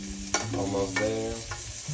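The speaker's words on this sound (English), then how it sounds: "Baste, baste, baste." A pork chop is basted with butter in a hot pan, with a busy sizzle and sputter and a few sharp clinks of a spoon against the pan, close up and with no voices.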